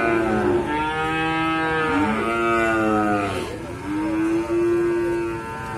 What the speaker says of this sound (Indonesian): Salah satu resiko ketika kita membeli dari pedetan memang suaranya itu kadang ganggu teman-teman.